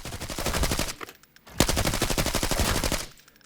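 Sustained automatic bursts from an AK-12 rifle in the shooter game Arena Breakout Infinite, two long loud volleys of rapid cracking shots separated by a brief pause, with no talking.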